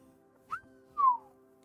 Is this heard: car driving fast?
no